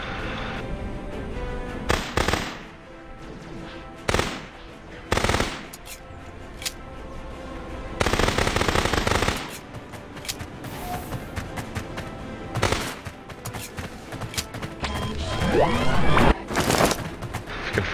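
Gunfire in the video game Orion: Prelude, with repeated bursts of automatic shots and single blasts breaking through dense, loud game combat noise over about eighteen seconds.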